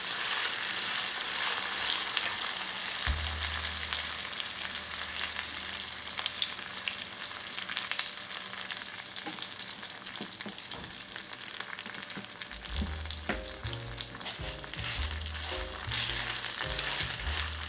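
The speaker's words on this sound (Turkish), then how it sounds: "Ne kadar çok kavrulursa o kadar güzel olur." Rice and orzo toast in a hot pan with a steady, dense sizzle and crackle, close and continuous, joined by occasional stirring scrapes and low thuds near the end.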